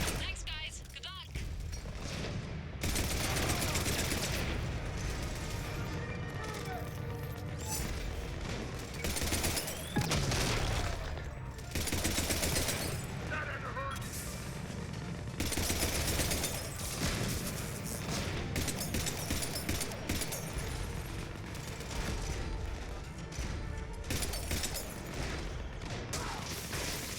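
Mech battle in Mass Effect Legendary Edition, with continuous rapid gunfire, heavy impacts and explosions roaring steadily for the whole stretch while voices talk over the combat.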